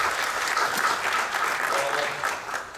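Sustained applause from a seminar audience at a 2014 Seoul walkable-city forum, greeting the panel moderator, a Seoul National University architecture professor: dense, steady clapping close by, easing slightly toward the end, with no talk over it.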